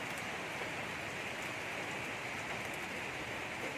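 Steady, dense rain falling continuously, a broad hiss with scattered drops, no voices.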